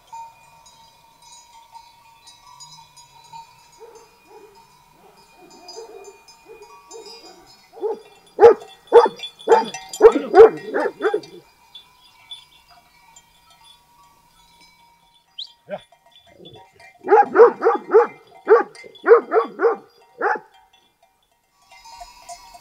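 Dogs at a rural farm bark in two loud, rapid bursts of several sharp barks each, with quieter stretches of faint background noise between them.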